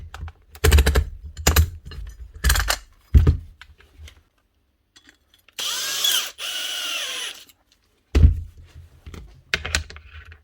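A Dewalt cordless tool with a loosened head runs in short bursts with clunky handling knocks between them, and in one longer run its motor whines with a slightly rough, geary rattle, close and moderately loud.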